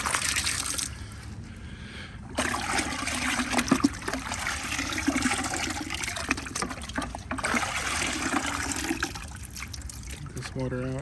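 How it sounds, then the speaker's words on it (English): Water splashes and gushes in a bucket as a dirty car air filter is sloshed and rinsed, with a person talking over the running, trickling water. "Filling up the bucket with the air filter in there, so I can just rinse it"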